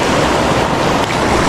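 Ocean waves breaking against a shore, a loud, steady wash of surf with wind noise across the microphone and no pauses.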